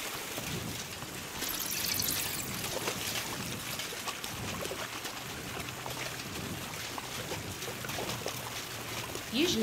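Water runs through a stone channel in Kingdom Come Deliverance 2, a steady trickling and pouring flow with soft splashes, heard fairly quietly and continuously.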